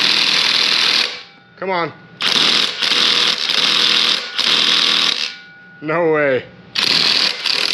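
A SeeSii cordless 1/2-inch impact gun works on an engine's crank bolt with a 19 socket, giving three long, loud hammering bursts separated by short pauses in which someone speaks briefly.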